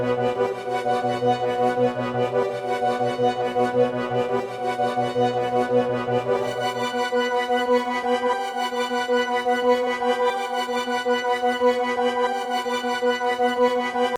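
A glitchy, grainy morph plugin sample playing in FL Studio, a sustained droning chord with a fine crackling granular texture, loud and steady, and the lower tones drop out partway through.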